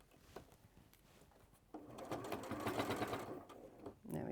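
A sewing machine stitches toward a mitred quilt corner, with soft clicks of handling before the motor picks up a steady, close whirring run that pauses briefly near the end.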